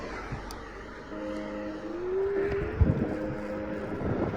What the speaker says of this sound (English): I'm just waiting and waiting and waiting for these cars to go by